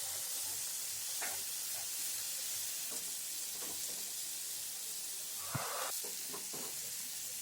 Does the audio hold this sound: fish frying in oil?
yes